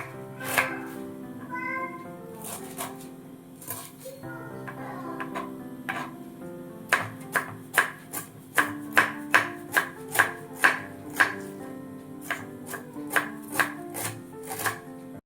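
Cabbage being sliced thin on a board for a cabbage kootu in a home kitchen, with a run of sharp, steady knife chops up close, clearest in the second half, over faint background noise.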